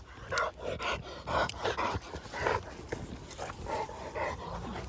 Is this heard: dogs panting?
yes